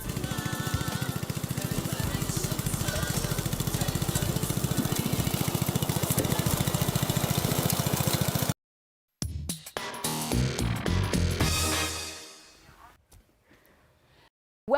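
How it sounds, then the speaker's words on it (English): Lawn mower engine running loud and steady for about eight seconds, then cutting out abruptly, followed by scattered bumps and fading noise. "I'm going to mow the lawn."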